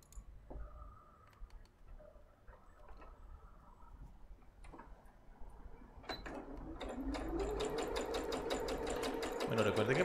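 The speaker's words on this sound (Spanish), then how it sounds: "Pasamos la costurita sin remate al inicio y sin final. ¿Listo? Vamos a coser." A sewing machine set to its longest stitch length runs a long gathering stitch, starting after scattered handling clicks and then whirring in a steady fast rhythmic chatter that grows louder and closer toward the end.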